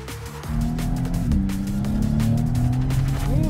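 A Maserati MC20's six-cylinder engine revs high and holds a steady, loud, buzzy drone toward about 7800 rpm, with pitch sweeping slightly and no talk over it.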